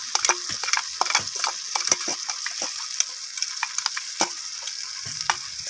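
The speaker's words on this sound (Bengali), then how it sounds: "তো সব কিছু এইভাবে আমি কষিয়ে নিচ্ছি।" Cabbage curry with poppy seed and peanut paste is sautéed and stirred in a pan, a soft continuous sizzle broken by frequent quick scraping strokes of the spoon, close and fairly quiet.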